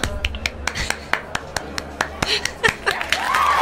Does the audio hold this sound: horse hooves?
no